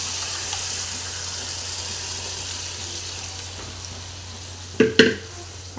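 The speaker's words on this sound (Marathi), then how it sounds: "फोडणी छान झाली आहे तर आपण आता त्याच्यामध्ये अळू ओतून घेऊया" Colocasia leaves go into a sizzling Malvani tempering seasoned with Malvani masala, giving a steady hiss of hot oil, then a couple of short, louder splashes and crackles near the end as they land in the pan.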